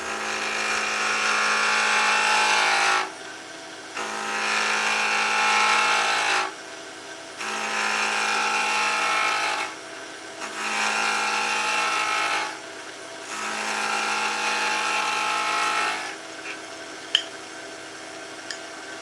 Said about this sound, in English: It's the G0844 14 by 20 lathe.